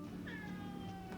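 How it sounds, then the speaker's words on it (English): A single drawn-out cat meow, close and fairly quiet, from a cat that keeps meowing early in the morning for food. "If anything, it seemed to make him meow more."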